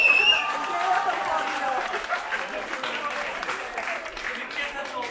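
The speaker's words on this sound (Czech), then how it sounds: "No tak to chce potlesknout" Audience applauding at a folk festival performance where children learn to tie Wallachian leather moccasins, with steady clapping and crowd noise sustained throughout, loudest at the start.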